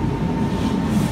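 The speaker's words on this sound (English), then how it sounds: "I got a video of the train" SMRT C151 MRT train passing, a steady loud rumble of wheels and motors rolling by close up, with no voices.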